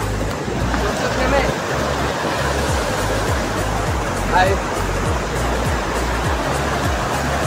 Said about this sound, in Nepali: खोलाको साउन्ड हो।